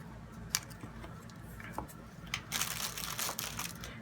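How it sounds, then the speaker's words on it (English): Paper cut for a composition book cover, with a few soft snips followed by a denser second of crisp rustling and slicing, fairly quiet and close. "So I'm going to cut it"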